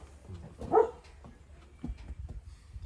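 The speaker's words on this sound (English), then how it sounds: "Now you got the big dogs all excited" Big dogs bark excitedly in the distance, one faint bark standing out among scattered quieter yips and rustling.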